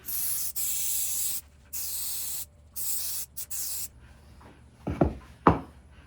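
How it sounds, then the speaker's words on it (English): Several bursts of hissing activator aerosol spray over clear epoxy on an olivewood charcuterie board, short and steady with pauses between, followed by a couple of soft knocks or handling sounds near the end. "spray with the activator spray."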